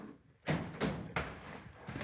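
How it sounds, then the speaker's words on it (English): A back door in a 1937 film drama is bolted shut with a series of sharp wooden knocks and clunks, three strong hits close together followed by a softer one, over a hissy background. "Bolt that back door."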